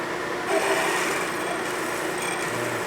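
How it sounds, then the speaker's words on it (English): A steady high-pitched whir of a new drill bit grinding into metal while building a Harley Shovelhead big bore motor, running continuously and close by with no talking. "This is a really nice drill. Is this a brand new drill bit? Went in like butter."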